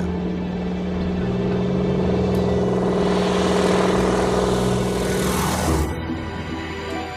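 A vintage radial-engine airplane takes off with a loud, droning roar of steady engine harmonics that swells and then fades slightly toward the end.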